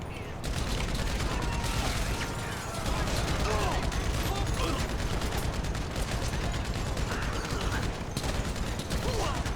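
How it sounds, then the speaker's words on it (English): Dense, continuous automatic gunfire from a machine gun in the video game Grand Theft Auto, loud and nearly unbroken across the whole stretch, with scattered bursts and booms layered into a busy, chaotic shootout. "We're going to switch up to our machine gun for the moment."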